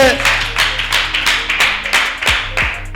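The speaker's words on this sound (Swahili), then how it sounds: "Makofi kwa ajili yake." An audience claps in a TV interview studio: a run of quick, close, fairly loud claps that repeat steadily over a low steady hum.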